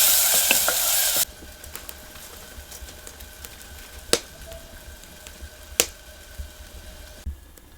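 Onions frying in a pan with oil for a Gujarati dal tadka, a steady soft sizzle with a louder burst at the start and a few sharp clinks of stirring.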